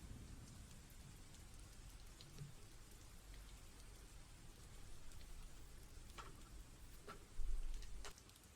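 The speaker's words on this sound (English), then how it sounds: "And now it's raining" Rain in an Ace Attorney fangame falls as a steady, fairly quiet hiss with crisp drops ticking through it and a brief low rumble of thunder near the end.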